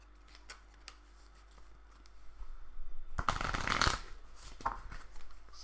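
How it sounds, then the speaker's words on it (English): A deck of playing cards from a Marvel Champions card game session riffle shuffled up close, a dense fluttering burst of flicking cards lasting under a second, with faint handling rustles before and after. "Let's do a riffle shuffle."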